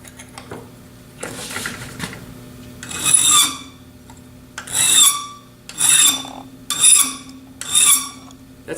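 A metal file rasps in a series of harsh, shrill strokes, about six bursts with short pauses, loud and close, with a ringing squeal on each pass.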